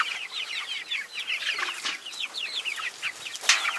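Many chickens cluck and chatter close by, a busy overlapping flock with quick repeated calls and a few louder squawks.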